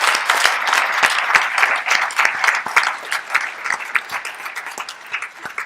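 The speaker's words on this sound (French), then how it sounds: "j'aimerais que vous applaudissiez ces personnes" Sustained applause from an audience at a congress closing ceremony, many hands clapping in a dense, steady patter that gradually thins toward the end.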